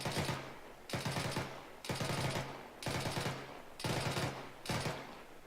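An automatic rifle fires six sustained bursts in a steady rhythm, each a loud, rapid rattle of shots with short pauses between, emptying a magazine at close range.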